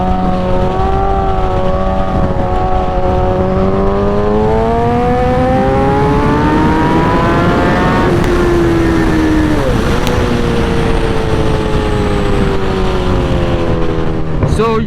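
A 2008 Suzuki GSX-R 1000 sport motorcycle is ridden side to side to warm its tires, its engine droning loud and close with a rising then falling pitch as the throttle changes, a steady roar throughout.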